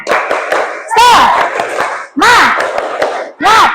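A class of schoolchildren performs a rhythmic clapping chant in bursts, loud, close group voices shouting in unison between sharp hand claps, with pauses between phrases.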